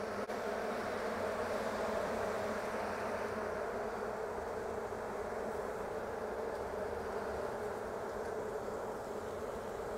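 Honey bees buzz in a dense, steady drone around an open hive with many on the lid, a close continuous hum that holds even for the full stretch.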